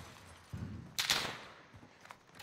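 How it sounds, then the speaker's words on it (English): A gunshot burst in the video game Modern Warfare: a sharp, loud crack of gunfire rings out once with a short noisy tail over the game's background sound. "Oh, someone shot me."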